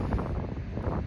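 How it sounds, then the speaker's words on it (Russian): Strong wind buffets the microphone at an ocean shore, with a steady low rush of surf rolling underneath; a dense, constant roar with no voices. "я иду к океану, шум которого вы наверняка уже слышите, и ветер сейчас сильнее становится"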